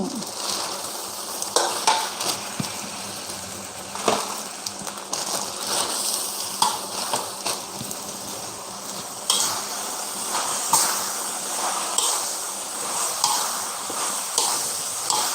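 Glass noodles being stir-fried with tofu in a hot pan for pad thai, giving a steady crackling sizzle with scattered scrapes and clinks of a utensil against the pan throughout, no voices.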